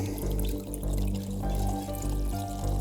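Water pours steadily from a metal water bottle into a container at a backpacking campsite, a continuous close splashing flow with a faint gurgling pulse.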